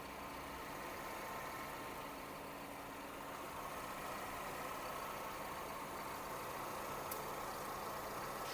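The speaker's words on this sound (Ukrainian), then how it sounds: "робота двигуна." A Hyundai Tucson 4x4 with a 2.0 petrol engine converted to run on gas idles at a steady, even rumble. The sound is quiet and continuous throughout, with no voices over it.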